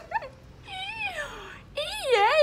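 A dog whines and whimpers in three close, drawn-out, wavering cries, the last one loudest, with no clear bark.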